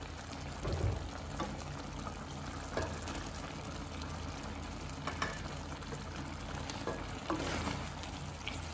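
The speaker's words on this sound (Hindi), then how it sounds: "तो हुण मैं इहदे विच जिहड़ा पास्ता आ वह ऐड ऑन करांगी।" Pasta added to a pan of cooked vegetables and milk, giving a steady low sizzle and bubbling with occasional clinks and stirring, fairly quiet and without talk.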